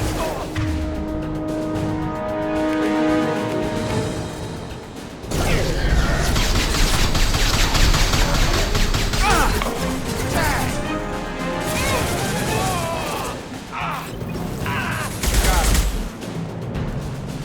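Repeated bursts of gunfire and crashing impacts from combat in the video game Mass Effect 2, loud and dense against music and battle noise, with a voice briefly calling out amid the firing.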